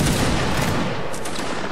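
A line of regiment soldiers fires a musket volley: a dense, loud, rolling crackle of many shots merging into one roar that slowly fades.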